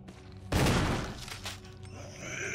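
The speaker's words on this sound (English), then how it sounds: "Right now is a damn shotgun!" A shotgun blast in the survival horror game Resident Evil Remake HD, a single loud broadband bang with a short decaying tail, followed by quieter game ambience.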